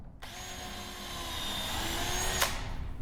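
A power drill or driver runs steadily for a couple of seconds, driving a screw into the corner joint of a wooden chair, with a faint whine that stops abruptly near the end.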